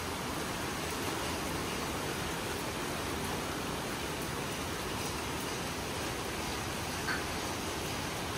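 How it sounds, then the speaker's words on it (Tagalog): Steady, dense rainfall hissing continuously across the whole clip in the Philippines, loud and unbroken, with no voices. "Lakas ng ulan"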